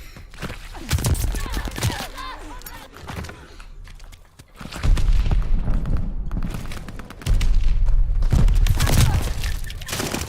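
Mortar blasts and gunfire in a Call of Duty match, heavy booming thuds in bursts with scattered sharp shots and quieter gaps between impacts, loud and close.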